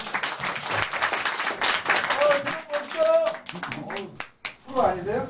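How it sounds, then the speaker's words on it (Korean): An audience claps for a drummer at a live band performance, a short burst of applause over voices and room noise, fading as talk resumes. "드럼 너무 열심히 하시고 박수 한 번만 주세요."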